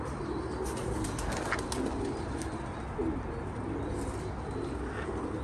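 Pigeons coo softly in a loft, low repeated throaty calls over a constant murmur of birds, with occasional faint chirps and wing rustles nearby.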